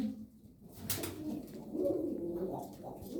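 Soft, low pigeon cooing close by, a few rolling coos over faint background noise, at an outdoor bird market in Edirnekapı, Istanbul.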